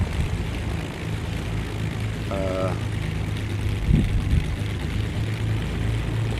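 AI propeller aircraft taking off in X-Plane 11 around a Norwegian airport, a steady low engine drone that swells slightly midway, with a brief tonal blip and a thud breaking through.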